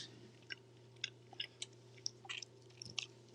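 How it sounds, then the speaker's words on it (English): Bites of a piece of 60% cocoa dark chocolate being chewed close up, soft crunchy clicks coming every half second or so over about three seconds, fairly faint with no talking. "I'm actually gonna taste a piece of it right now."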